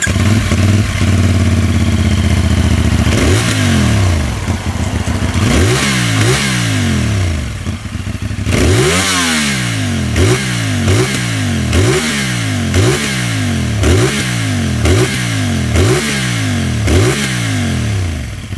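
A CFMoto 450NK motorcycle engine idles roughly at first, then is blipped in a quick series of sharp revs, about ten rising and falling bursts in a steady rhythm, loud and close.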